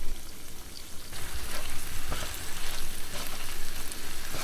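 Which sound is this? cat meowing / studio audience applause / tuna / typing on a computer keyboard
tuna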